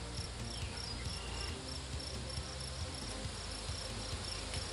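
Dense, steady buzzing of many honey bees swarming around an open hive during a hive inspection, a continuous close drone with no speech.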